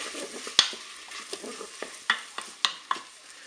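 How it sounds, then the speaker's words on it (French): Shrimp spaghetti frying in a Cookeo multicooker pot while being stirred: a steady soft sizzle broken by several sharp scrapes and clicks of the utensil, heard close with no talking. "Je mélange."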